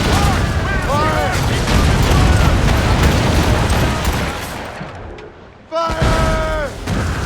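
Ship cannons fire in Assassin's Creed Rogue during a 1758 naval battle, a loud, sustained barrage of booms and thuds under shouted crew voices, dropping briefly before another burst resumes.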